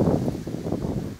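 Strong, gusting wind buffeting a microphone out on a frozen lake, a dense low roar that swells and dips in waves with no one speaking.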